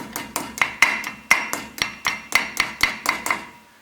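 Light metal taps from a hammer on a cotter pin at a Ford Ranger wheel hub, about a dozen sharp close strikes in an uneven rhythm, each ringing briefly, with no talking.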